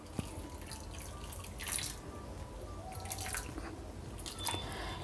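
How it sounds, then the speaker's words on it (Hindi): Water goes into a bowl of washed sago pearls as soft drips and small splashes, quiet and close, with a few brighter splashy bursts. "अब इसमें हम डाल देंगे पानी।"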